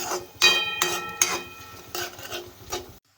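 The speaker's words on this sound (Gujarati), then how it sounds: "સારી રીતે મિક્સ કરી લઈશું આપણે." A spoon scrapes and stirs masala rice, seasoned with salt and turmeric, in a cooking pan. There are several distinct scraping strokes in an uneven rhythm, close and moderately loud, and then the sound stops abruptly.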